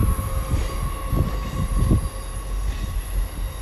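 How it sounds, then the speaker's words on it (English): A Class 150 diesel multiple unit coupled with a Class 143 Pacer at Exeter St David's station, rumbling steadily with low engine and wheel noise, brief rising bursts of motion and a faint sustained tonal whine throughout, no talk. "The 150-221 at the front of the Exeter train."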